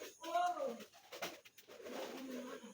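Pigeons picking at soil under a clay stove give a soft, close coo, followed by quieter rustling and low murmuring sounds in a calm setting.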